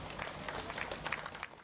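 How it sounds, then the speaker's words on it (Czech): A crowd at a volunteer fire brigade's 140th anniversary celebration in Desná applauds, a short burst of dense clapping outdoors. "Takže ještě jednou potlesk."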